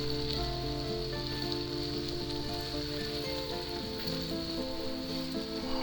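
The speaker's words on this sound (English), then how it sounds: "I love mushrooms sauteing in a pan." Mushrooms sauté in a hot pan with a steady, crackling sizzle that runs throughout, alongside sustained tonal background music.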